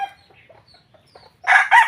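A fighting cock crows loudly twice in close succession near the end, each call a bright, harsh burst, after a stretch of faint background sounds on a farm.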